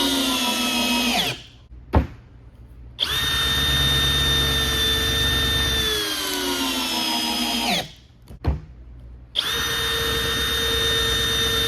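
A power drill driving a screw to join two pieces of wood, a loud close whining motor run in three long bursts with short gaps, the pitch sagging under load near the end of the middle run.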